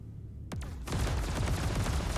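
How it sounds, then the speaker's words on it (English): Laser cannon and distortion cannon firing together in Star Citizen: a sharp whooshing discharge, then a dense continuous barrage of loud rapid bursts that carries on without pause, no voices. "Now, if I use both laser cannon and distortion cannon together,"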